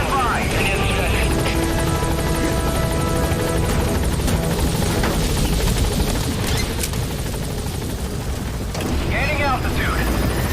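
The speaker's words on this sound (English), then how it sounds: "This is B-Quad. Have arrived at LZ." Helicopter in the Metal Gear Solid V video game lifting off and departing from a landing zone, a loud steady rotor roar with engine whine throughout, under radio-style talk.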